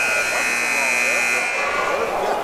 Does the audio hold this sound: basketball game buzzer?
yes